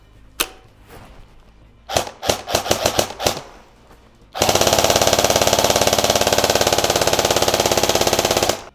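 An airsoft M4 rifle fitted with a tan Amarok 250-round mid-cap magazine, first a few separate sharp shots and a quick cluster of single shots, then a loud, steady full-auto burst lasting several seconds.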